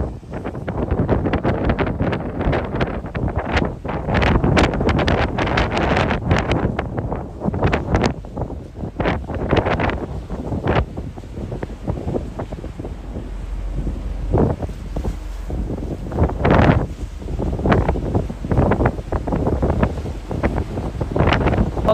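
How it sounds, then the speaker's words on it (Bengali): Stormy wind batters a ship on the rough North Pacific Ocean, loud gusts and heavy buffeting on the microphone that rise and fall continuously with surging bursts of sea noise. "এতটা উত্তাল নর্থ প্যাসিফিক ওশানকে কখনো দেখিনি"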